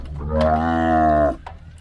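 A single long, loud moo from one cow in a herd fitted with electronic collars, a steady tonal low bellow lasting over a second and heard up close, followed by faint background noise.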